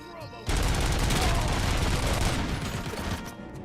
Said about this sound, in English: And that's a turret.